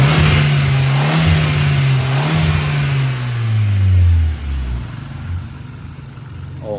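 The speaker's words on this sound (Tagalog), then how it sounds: "Tapos ito yung makina." A 2020 Hyundai Accent with a 1.4 gas engine and an aftermarket muffler revs loudly up close, holding a steady rumble before the pitch sweeps down as the engine settles back toward idle.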